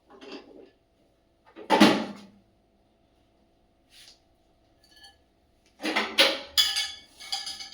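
A dirty dish clanks down into a sink basin in a home kitchen: one loud clattering knock, then a later cluster of sharper clinks and rattles with quiet gaps between.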